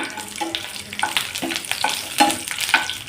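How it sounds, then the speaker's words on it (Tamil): Raisins and cashews fry in hot oil for a Kerala-style chicken keema dum biryani, a steady close sizzle broken by regular scraping stirs of the pan roughly every half second. "இதில் கொஞ்சோண்டு கிஸ்மிஸ், கொஞ்சம் முந்திரி பருப்பு கொஞ்சம் ஃப்ரை பண்ணி எடுத்துக்கலாங்க."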